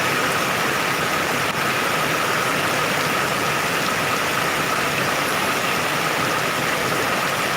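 Steady rain falling while caught outdoors, a dense, even hiss that stays loud and unbroken from start to finish with no voices.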